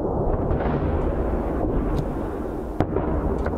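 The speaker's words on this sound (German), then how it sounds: "Es sind ununterbrochen Explosionen und Schüsse zu hören." Continuous heavy rumbling of distant explosions from fighting in residential areas of Bakhmut, with a sharp crack of gunfire standing out near the end, loud and unbroken throughout.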